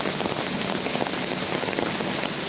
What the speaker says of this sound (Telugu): it is raining continuously